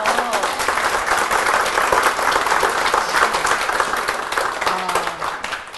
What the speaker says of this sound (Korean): 여러분, 사랑의 박수 좀 보내주세요